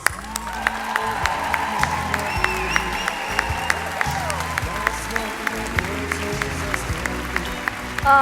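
A school show audience claps in sustained, dense applause, with sharp individual claps standing out at a steady pace and crowd noise mixed in underneath.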